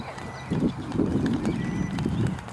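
Hooves of a horse cantering during a western dressage lesson, a steady rolling three-beat clip-clop on an arena surface, fairly close and continuous with no talk over it.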